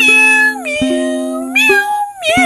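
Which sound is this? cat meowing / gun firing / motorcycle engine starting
cat meowing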